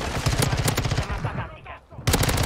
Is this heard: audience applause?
no